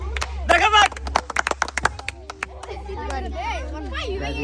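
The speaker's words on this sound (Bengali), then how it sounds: "দর্শক হাততালি হবে" Studio audience at a spin-the-wheel food prize game show claps in a short burst of sharp, irregular claps, mixed with a host's voice and a steady low hum throughout.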